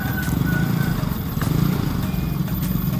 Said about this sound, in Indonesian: mesinnya langsung hidup ya guys, udah mau nyala lagi nih guys motor saya nih guys